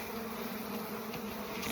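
A steady, low drone of many Carniolan honeybees buzzing close by, continuous and even with no talking.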